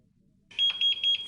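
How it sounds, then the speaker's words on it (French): A Rio Scanning 30 laser epilator signals an error with short, high-pitched electronic beeps in quick succession, clear and close against a quiet background. "l'appareil émet un double bip pour indiquer une erreur"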